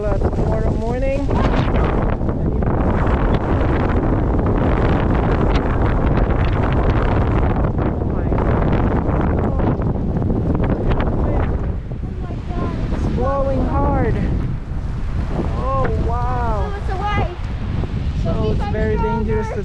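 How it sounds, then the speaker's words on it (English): Strong gusting wind of 30 to 40 miles an hour roars across the microphone during a heavy New York City snowstorm, loud and continuous, with a voice speaking intermittently over it. "It's like the snow is hitting our face, and it's with a 30-40 mile an hour wind"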